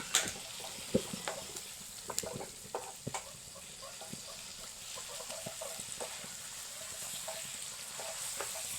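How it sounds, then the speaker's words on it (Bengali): Elephant foot yam pieces fry in a thick spice paste being cooked down for a tilapia curry, with a steady close sizzle and sharp scraping stirs and clinks of the spoon scattered through. "ওলগুলো দিয়ে আবারও আমি কষিয়ে নেব"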